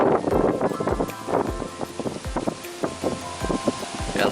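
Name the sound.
very strong wind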